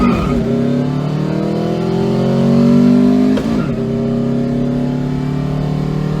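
Air-cooled VW engine with a sidewinder exhaust and big IDF carburetors, revving loudly up close, rising in pitch, dropping abruptly, then settling into a steady throaty drone, with no talk.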